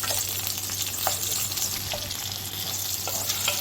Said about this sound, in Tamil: இதே டயத்தில் பூண்டியும் போட்டு கொஞ்சம் நல்லா வதக்கிக்கலாம்.